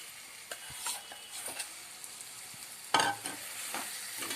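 Fish pieces for Konaseema-style bommidala pulusu sizzle in hot oil, a soft steady fry broken by occasional clinks and stirring scrapes and a sharper burst of sizzle partway through, close and without speech.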